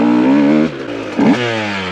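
A 2024 GasGas 125 two-stroke motorcycle revs hard and close, its engine note rising in pitch, dipping briefly at a gear change, then climbing again loud and raw.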